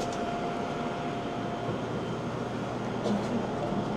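A subway train in South Korea runs with a steady, fairly quiet broadband rumble and hiss, a continuous even roar throughout with faint higher squeals near the end.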